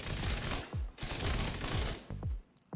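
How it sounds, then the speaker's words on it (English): Rapid bursts of automatic gunfire from shooting enemies in The Division 2, with several sharp volleys and brief gaps, loud and close with no talk. "You can even start shooting enemies, and you can see that the disruptor rounds are building up."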